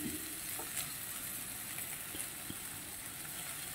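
Crab sautés in a pan as a base for spicy crab soup, a soft, even sizzle heard up close and fairly quiet, with a couple of faint clicks and no voices.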